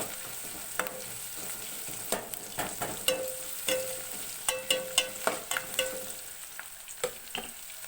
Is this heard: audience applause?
no